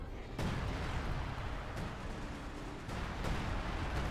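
Heavy booming artillery explosions in the video game Company of Heroes 2 roll one after another, a continuous barrage of deep blasts with a few sharper impacts standing out.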